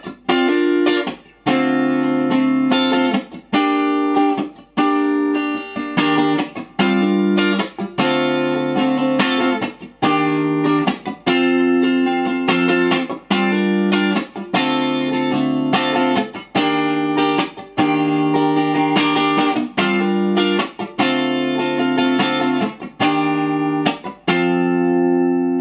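Steady rhythmic guitar strumming of a song, chords changing every second or so with quick extra strokes between, played close and loud without pause.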